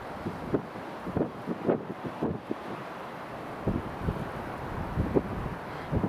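Strong gusty wind buffets an outdoor microphone beside runway 24 at Edinburgh Airport, a steady rumble with repeated low thumping gusts and no voices.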